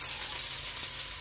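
Stir-fry noodles sizzle in a pan with a dense, steady hiss that stays loud and close for a moment, with no voices.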